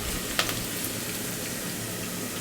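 Dried red chillies and onion fry in hot oil with a dense, continuous close sizzle and crackle, with one short sharp spatter early on.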